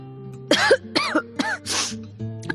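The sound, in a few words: coughing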